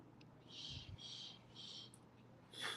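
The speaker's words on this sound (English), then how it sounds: "Now you guys should be able to hear the neighbor's bird." A neighbor's loud pet bird gives a series of four shrill, piercing calls, evenly spaced about half a second apart, heard faintly from a distance over a quiet low hum.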